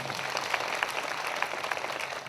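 Crowd applause from a congregation at a Christian prayer gathering, sustained and even clapping from many people that fills the whole moment at moderate volume.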